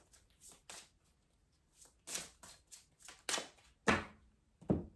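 A tarot card drawn from a deck during a weekly reading, heard as several short papery slides and flicks spread across the moment, fairly close and soft, with no talk.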